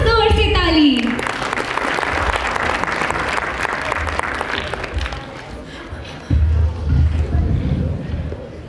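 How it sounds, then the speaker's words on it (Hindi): A school annual day audience claps loudly at a cultural programme, sustained crowd applause after a voice calls out briefly at the start, with a louder swell of clapping and stage noise near the end. "तो बजाओ जोर से ताली"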